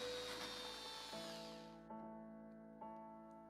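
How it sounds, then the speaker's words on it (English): A small drill whirs steadily, then winds down with a few short bursts as it bites into a brass espresso machine steam nozzle, making a 1mm hole; no talking. "Then we drill."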